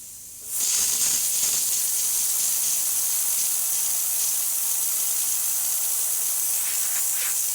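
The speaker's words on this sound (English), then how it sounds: "now that that light is off, it is up to temperature, so we can open that steam wand" A Rancilio Silvia espresso machine's steam wand opens after the boiler reaches temperature, bursting into a loud, steady hiss that holds unbroken and close without any talking.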